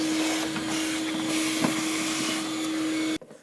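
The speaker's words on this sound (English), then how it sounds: "we're going to use a vacuum and clean it all up" A shop vacuum cleaning debris from a 2003-2007 Infiniti G35 during fuel pump lock ring replacement runs steadily with a constant motor whine and airy rush, then cuts off abruptly near the end.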